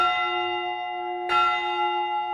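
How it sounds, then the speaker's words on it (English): America's Freedom Bell, a large memorial bell forged partly with steel from the World Trade Center, rings out with a deep, sustained tone and bright overtones, then a second strike swells the ringing as it hangs in the air. "America's Freedom Bell was first rung 23 times"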